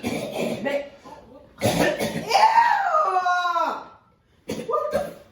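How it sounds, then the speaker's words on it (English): A person coughing in a prank setup, with harsh hacking bursts followed by a long strained, voiced retching groan and another short cough at the end, close and loud. "Why are you coughing up blood?"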